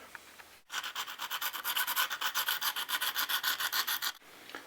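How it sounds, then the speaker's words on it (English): Steady back-and-forth rasping of sandpaper on a hard plaster refractory mold, about twenty quick even strokes in a row, close and fairly loud. "I'm going to take a little bit of sandpaper and just sand it off lightly."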